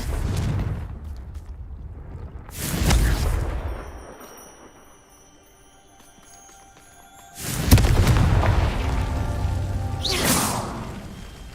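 Confringo blasting curse explosions in a Harry Potter video game: two loud booming bursts with whooshing swells several seconds apart, separated by a quiet stretch of ringing tones.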